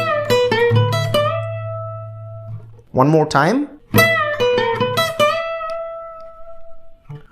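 Electric guitar plays a blues lick at a quicker pace, two bursts of bright picked and bent notes, close and loud, with a short spoken phrase near the middle.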